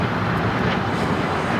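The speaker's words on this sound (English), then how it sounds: "This is Alaska Airlines 9678 taking off to Kahului on a MAX 9 in the San Francisco Giants livery." An Alaska Airlines Boeing 737 MAX 9 in San Francisco Giants livery taking off at LAX, a steady broadband jet roar that holds loud and even throughout, with no clear rise or fade.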